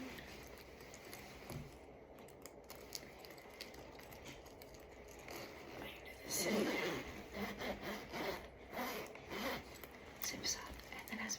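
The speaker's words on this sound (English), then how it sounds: "Maybe I should do the zipper. That might make a nice" A zipper on a vintage 100% cotton garment is drawn up, a soft close rasping run in the middle, surrounded by quiet rustling and handling of fabric, with hushed speech around it.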